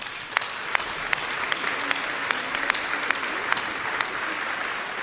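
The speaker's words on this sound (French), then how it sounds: "On peut les applaudir." A crowd at a New Year's wishes ceremony claps in a steady, moderately distant round, with a few sharper claps standing out against the even patter and no speech over it.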